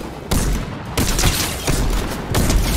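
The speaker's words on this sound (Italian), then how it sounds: "Mi spara uno vicino a fondazione." Revolver fire in Fortnite: four loud, close shots with sharp attacks, spaced under a second apart, each leaving a short reverberant tail.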